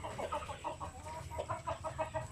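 A native hen clucks in a backyard laying area, a quiet run of soft, repeated clucks close by over a faint constant hum.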